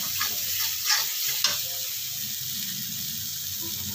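Masala fries in oil in a pan at home, a steady close sizzle with a couple of brief stirring scrapes.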